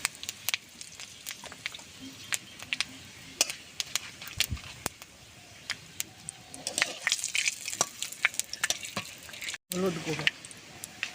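Five-spice, bay leaf and dry red chillies dropped into hot mustard oil in a kadai, crackling and sizzling with many sharp pops and spoon scrapes, close, with a voice talking over part of it.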